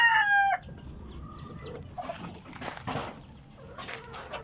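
Backyard chickens with a Peruvian breed rooster: a loud, clear crow opens close by, then fades into scattered clucks and rustling farmyard noise.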